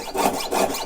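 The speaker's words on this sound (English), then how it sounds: "I'm sawing so that I can get a better grip on it." A jeweler's saw cuts through 20-gauge sterling silver sheet at a bench, two quick rasping strokes back and forth, close and fairly loud with nothing else heard.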